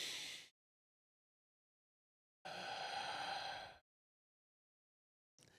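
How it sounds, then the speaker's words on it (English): Deep breaths from a breathing exercise come close and clear as a short exhale, then a long drawn-out breath after a pause, and a brief final breath. "let's do some breathing"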